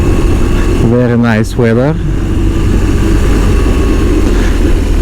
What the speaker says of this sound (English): you can hear some boxer sound